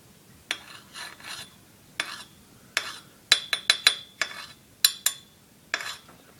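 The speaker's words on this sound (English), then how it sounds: "here's the sound this makes when I put it against another metal" A handmade knife blade scraped and tapped against another piece of metal, giving a rapid series of sharp metallic scrapes and clinks, close and clear with no talking.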